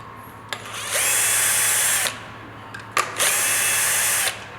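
A power drill backs screws out of the handle control box on an EPT20PPD pallet truck in two close, loud whirring bursts of about a second each. Each burst is set off by a faint click or tap.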